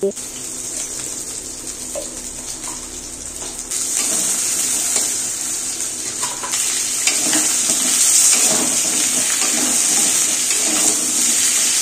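A vegetable curry sits in a pan on the stove with bitter gourd, giving a steady hiss and sizzle throughout that grows louder partway through, with light clinks and scraping over it.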